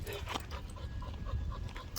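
A dog panting quickly and audibly close by during a walk along a road, steady rapid breaths over outdoor background noise.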